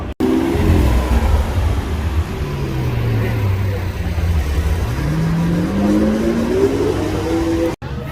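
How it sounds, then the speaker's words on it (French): A black SVJ supercar drives down a street in Monaco, its loud engine close by and rising and falling in pitch as it accelerates and passes, with no voices over it. "SVJ full black de chez Full Black là qui descend"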